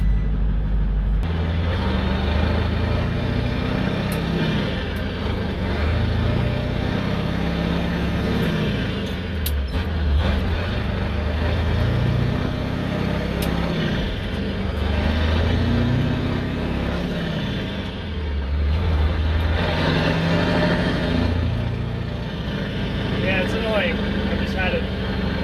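A CAT 3208 turbo diesel engine fitted with a Thai style howl pipe runs steadily, a loud, deep, continuous rumble with a wavering howl, while someone talks over it.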